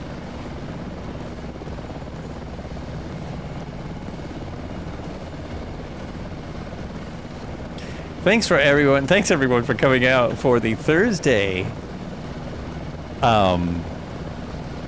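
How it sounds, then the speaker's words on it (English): Steady AS365 N2 helicopter engine and rotor drone with rotor slap runs throughout, with a person speaking loudly over it near the end. "Rotor slap."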